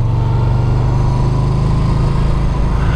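A Yamaha Bolt motorcycle fitted with Bassani Radial Sweepers exhaust cruising on the road, its engine a loud, steady low drone with continuous rumble and wind, no pauses or sharp revs.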